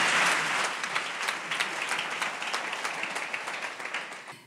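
Church congregation applauding for several seconds, a dense, roomy wash of many hands clapping at once that holds steady and then fades away at the end.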